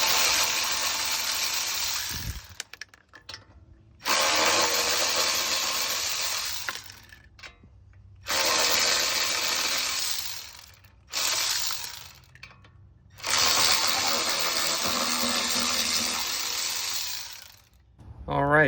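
A power tool spins off the lug nuts of a Jaguar XJ wheel in a cramped workshop, whirring loud and close in four long bursts with short pauses between them.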